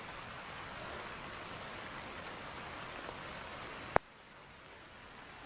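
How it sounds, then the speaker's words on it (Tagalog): Dense, steady hiss of heavy rain, with a sharp knock partway through, after which the downpour sounds muted. "yung ulan na malakas"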